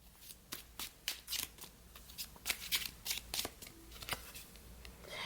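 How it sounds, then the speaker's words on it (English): A tarot deck is shuffled up close to pull a clarifier card, a quick run of crisp riffling card flicks and soft slaps, fairly faint and with no voices. "I'm going to pull a clarifier down here."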